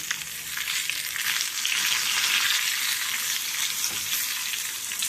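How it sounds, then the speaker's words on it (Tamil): Raw mango pieces sauté in oil for a mango pachadi, producing a dense, steady hiss of frying that swells slightly in the middle, close and uninterrupted, with no voices. "மாங்காவை கொஞ்சம் கொஞ்சமாக அதில் போட்டுக்கலாம் நல்லா வதக்கி வச்சிடலாம்"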